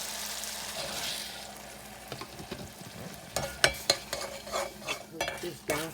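Rice with pigeon peas (gandules) and tomato paste cooking in a pan, a low sizzle under a series of sharp utensil clinks and scrapes against the pan from stirring, close up, no voices.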